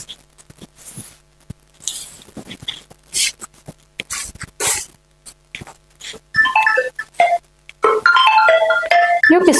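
After scattered footsteps and household movement, a mobile phone ringtone starts up, playing a bright electronic melody that grows steady and prominent over the last seconds.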